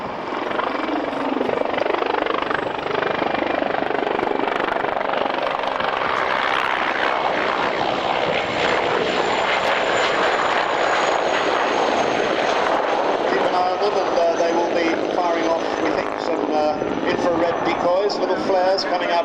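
Attack helicopters make an opposition pass at the 1994 Royal International Air Tattoo at Fairford, a loud sustained rotor and engine roar that builds and stays heavy throughout as the aircraft approach and cross.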